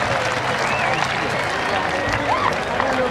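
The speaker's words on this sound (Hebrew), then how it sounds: "שימו לב, מחיאות כפיים ללוחמי גדוד 603 של כל ההנדסה" An outdoor crowd applauds soldiers of combat engineering battalion 603 at an IDF live-fire demonstration, with steady sustained clapping under a loudspeaker announcer's voice.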